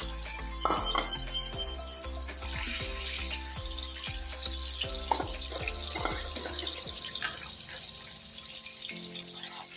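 Eggs fry in a pan for egg biryani, giving a steady broadband sizzle with scattered small pops and clicks throughout, fairly close and even in level, with no talking.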